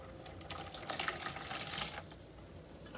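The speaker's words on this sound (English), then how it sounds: "I'll put the water in first of all" Water poured into a container during PCB making, a steady splashing trickle for about two seconds that then thins out to a quiet hiss, close and moderately soft.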